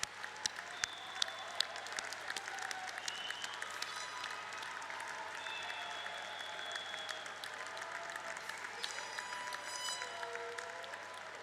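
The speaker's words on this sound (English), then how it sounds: "Let's have one more round of applause for all of our graduates." Sustained applause for graduates at the Drexel University College of Engineering 2025 commencement, a broad steady roar of clapping with scattered sharper claps and occasional whistles or cheers from the crowd.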